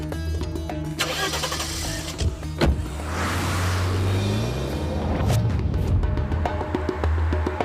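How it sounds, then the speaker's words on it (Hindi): A car engine comes up in a film scene, opening with sharp mechanical clicks and clunks before a mid-pitched engine swells and holds, loud and fairly close, then settles to a steady run near the end. "कोई गाड़ी तो आ रही है"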